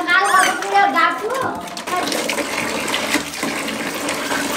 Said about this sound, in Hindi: पानी और डालो ना थोड़ा।